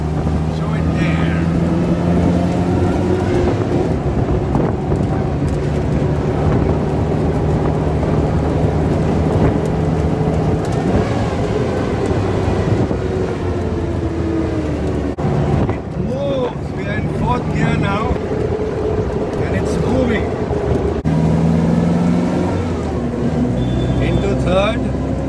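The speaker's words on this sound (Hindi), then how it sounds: "अब आप इसकी स्पीड देखिए, we are in third gear" A 1952 Willys CJ-3A jeep, converted to right-hand drive, running in third gear, its engine a steady loud drone with wind buffeting throughout, under someone talking.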